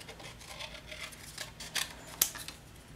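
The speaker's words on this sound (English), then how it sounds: "This one's really simple to cut out." Scissors snip through stamped paper pieces for a handmade bridge card, a few quiet, close crisp cuts spread over a soft background with no talking.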